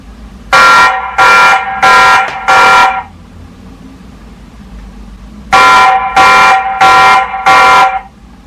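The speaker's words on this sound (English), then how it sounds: "That's the alarm function." A TP-Link Tapo C210 wifi camera sounds its motion alarm in two loud bursts of four evenly spaced electronic beeps each, separated by a few seconds of quiet.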